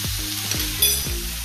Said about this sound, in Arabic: وهلا بتبلش تستوي منيح، وبما انه هلا بلش تستوي بننزل عليها الزبدة